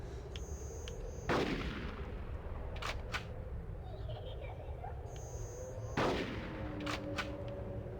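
Gunfire in the Nintendo 64 game Conker's Bad Fur Day, with two sharp, loud shots about five seconds apart, each followed by a few quicker cracks and ringing, over a low background rumble of game noise.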